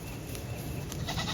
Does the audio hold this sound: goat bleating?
yes